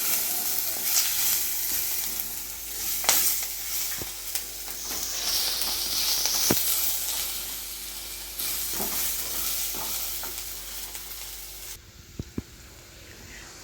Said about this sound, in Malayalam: അപ്പോൾ അതാ ഉള്ളി നന്നായിട്ട് വഴണ്ട് വന്നിട്ടുണ്ട് കേട്ടോ